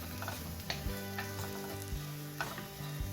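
Vegetables sautéing in a pan with a pinch of turmeric, a steady close sizzle with intermittent scraping and stirring clicks throughout; no voices.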